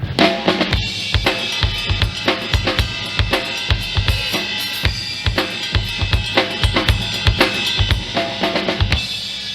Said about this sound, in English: playing something that sounds more like an authentic Latin pattern on the bell of the ride while maintaining the rock kind of feel